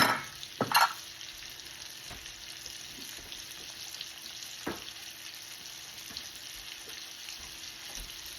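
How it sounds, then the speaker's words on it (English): Sliced baby bella mushrooms and onions sauté in a pan for shrimp pasta, a quiet, even frying hiss with a couple of sharp utensil clacks early and a few soft taps later, close by and without speech. "So we're going to saute the mushrooms and the onions."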